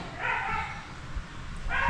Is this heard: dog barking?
yes